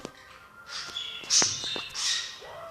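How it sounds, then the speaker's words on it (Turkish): Cartoonish bird squawks and chirps from the Brawl Stars video game come in a few short bursts of moderate loudness over a quiet background. "Şimdi kuşları dinleyin."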